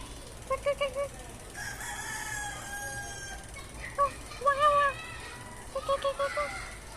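A rooster crows a few times in short bursts amid quiet background, with some low murmuring between the calls.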